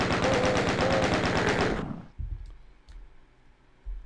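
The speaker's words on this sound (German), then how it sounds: "wir können jetzt auch gerne mal hier das Maschinengewehr nehmen" Rapid machine-gun burst from the video game Classic Doom, loud and steady for nearly two seconds before cutting off, followed by a few faint clicks and thuds.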